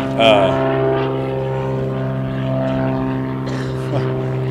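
A propeller-driven fixed-wing airplane drones steadily overhead outdoors, a loud continuous hum lasting throughout, with people talking over it.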